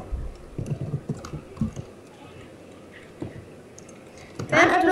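Typing on a computer keyboard during a Minecraft-style redstone gaming session: scattered soft key clicks in short bursts, mostly under people talking in Danish, with a louder noise burst at the end.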